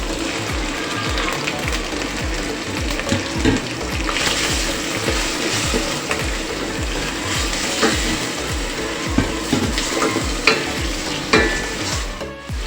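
Meat and onion frying in a pan for a vegetable soup, a steady close sizzle with repeated scraping stirs in an uneven rhythm, loud and continuous with no talking.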